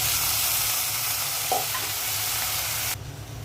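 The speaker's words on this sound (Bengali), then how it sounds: "পোলাওয়ের চালটা ভালো করে ভেজে নিব" Polao rice frying with ghee, ginger garlic paste, green chilies, onion and garam masala in a pot, giving a steady close sizzle with a stirring scrape around the middle, then a sudden drop to quieter sizzling near the end.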